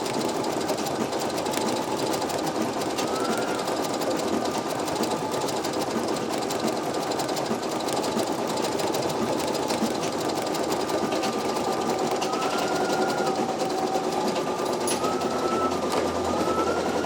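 A Brother embroidery machine (PE900 or NQ1700E) stitching an underlay, a steady rapid mechanical whirring and needle chatter running continuously and close for seventeen seconds with no talk.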